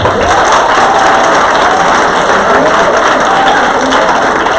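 Sustained group clapping during a training session, a dense, steady wash of many hands applauding together at close range, loud and continuous with no pauses or voices.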